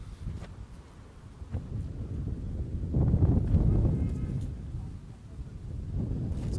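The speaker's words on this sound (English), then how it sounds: "It's a very windy day." Wind on a windy day at an outdoor high school soccer match buffets the microphone as a steady low rumble, swelling louder midway before easing, with faint commentary-style voices underneath.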